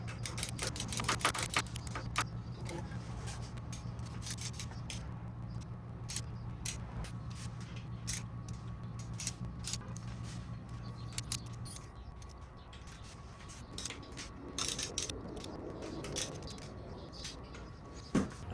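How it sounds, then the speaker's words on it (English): A torque wrench tightens the rocker cover bolts on a Harley Sportster to 12 foot-pounds, giving small metallic clicks, ticks and jangles scattered over a steady low hum, close by, with no talk. "We're gonna go ahead and torque them down to 12 foot-pounds."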